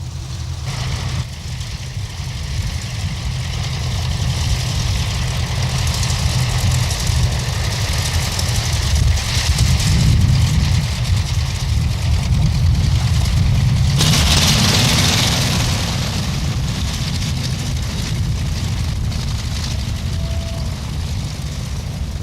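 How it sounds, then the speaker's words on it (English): Second World War Blenheim bomber piston engines droning steadily and fairly loud at an airfield, a low continuous rumble holding level throughout with a brighter swell midway. "the only flying example of the Second World War Blenheim bomber flies in on the evening before"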